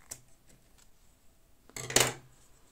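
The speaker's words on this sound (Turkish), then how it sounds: "Bakın direkt makasla kesiyorum." Scissors snip through a zipper being trimmed for a knitted bag, a couple of faint light clicks followed by one loud, crisp cutting crunch close up near the end.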